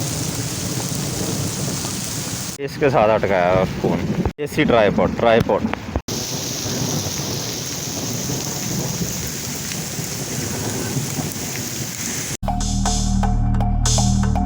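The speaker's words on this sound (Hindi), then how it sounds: "ये रेन देखें" Steady outdoor rain hisses with rolling thunder during a morning walk, a loud wash of sound broken by short stretches where someone talks close to the phone.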